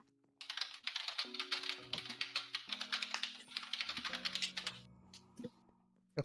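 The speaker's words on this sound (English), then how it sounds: "Your keyboard is really loud." Rapid clattering keystrokes on a loud computer keyboard, a dense run of close, crisp clicks lasting several seconds, with a faint low tone beneath.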